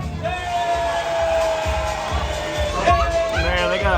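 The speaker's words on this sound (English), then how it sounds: "big round of applause for Miss Carmina" A crowd cheers and whoops at a swimsuit contest in a nightclub in Angeles City, with loud shouts rising over a pounding music beat and voices calling out across the room.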